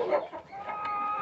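Rhode Island Red hens clucking in a coop, a steady mid-range chatter of several birds close by with brief louder calls.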